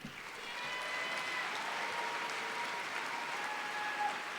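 Applause for a PhD graduate at a College of Natural Resources spring graduation ceremony rises quickly into an even, sustained patter of many hands, fairly distant and moderate in level throughout.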